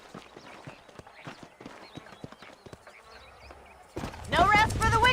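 Horses' hooves clip-clop steadily in the video game Red Dead Redemption, a walking rhythm that gives way to a louder, denser passage with a horse whinnying near the end.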